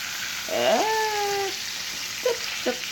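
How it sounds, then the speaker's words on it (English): A burger sizzles in a pan with a steady frying hiss throughout, with a brief rising, meow-like tone and a couple of soft knocks over it. "Yeah, something sizzling."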